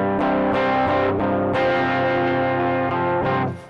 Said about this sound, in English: So you can hear the 4x12 is supposed to add a lot of bass